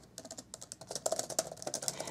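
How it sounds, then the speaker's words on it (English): Rapid, light clicking of fast typing on a Surface Pro 3 Type Cover keyboard, a close, quiet and continuous run of keystrokes with no talking. "And I can type really fast on this, just as fast as I can on any other keyboard."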